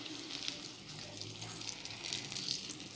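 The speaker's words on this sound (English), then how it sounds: "And then we'll add some water. So just half cup of water." Half a cup of water runs into a cooking pot of chicken tagine with herbs, a steady close splashing and gushing flow lasting the whole stretch with no talk.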